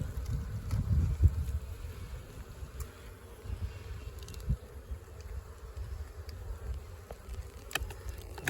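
A swarm of honey bees during a hive rescue in Livonia, Indiana, giving a continuous low buzzing drone with occasional louder passes of individual bees nearby, faint overall and without speech.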